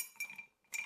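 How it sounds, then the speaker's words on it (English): Ice is dropped into a cocktail glass, giving a couple of faint, bright clinks close by in quick succession. "Going to add some ice."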